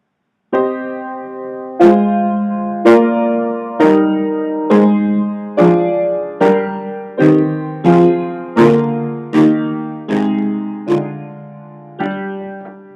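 Piano chords played one after another at a steady, slow pace, each struck firmly and left to ring briefly before the next; about a dozen in all.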